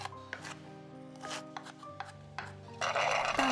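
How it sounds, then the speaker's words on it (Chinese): Fresh ginger being minced with a knife on a board, scattered sharp taps up close, ending in a louder burst of rapid rough scraping and chopping, no voices. "姜切成姜末"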